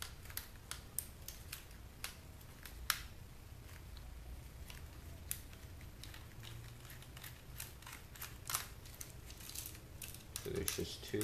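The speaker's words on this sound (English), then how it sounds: "So, now, I'm just going to remove all those screws that hold this bottom one in place." Screws are removed from a portable DVD player, with a run of small sharp clicks and ticks at irregular intervals over a low background, quiet and close.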